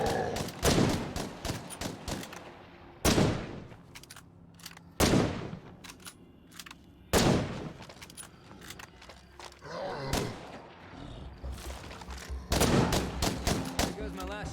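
Repeated rifle gunshots ring out in a zombie video game, sharp loud bursts spaced a few seconds apart with quieter clatter and game noise between them.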